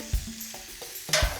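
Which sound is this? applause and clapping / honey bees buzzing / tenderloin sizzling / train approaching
tenderloin sizzling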